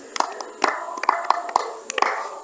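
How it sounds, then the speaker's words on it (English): A small group claps for Baraka in a church teaching session, with several sharp hand claps, some sharp and some loose, spread over a couple of seconds and heard fairly close. "Clap for Baraka."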